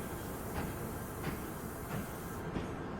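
Trains in the railway-building game Mashinky rumble steadily along the track, with a few soft periodic clacks of wheels over rail joints; no talking.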